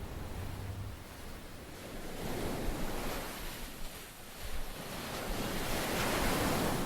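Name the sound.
waves pounding the coast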